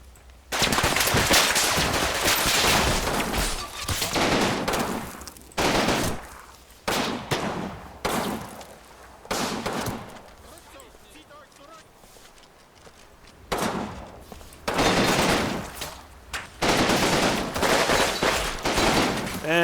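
Heavy gunfire from many weapons in a squad firefight, dense bursts and volleys crackling in loud clusters separated by short lulls, voices speaking underneath.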